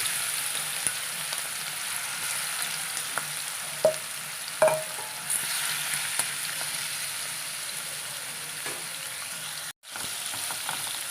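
Shrimp sizzle steadily in hot coconut oil close by, a constant frying hiss with a few sharp pops and crackles.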